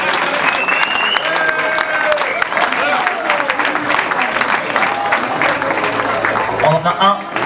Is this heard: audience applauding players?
yes